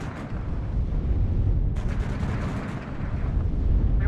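Autocannon fire in the real-time strategy game WARNO, a dense rumbling barrage of heavy rapid shots and booms rolling on continuously and loudly, with no voices.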